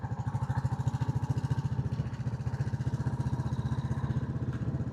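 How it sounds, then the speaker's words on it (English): A Royal Enfield Classic 350 single-cylinder motorcycle engine thumps in a steady, even rhythm, loud and close throughout with no talk. "Folk love this bike. I think these Enfields in general, folk just like seeing them and hearing them."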